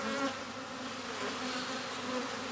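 A recently caught swarm of honeybees hums inside a hive full of colored pollen, a dense, steady buzz heard close and continuous throughout.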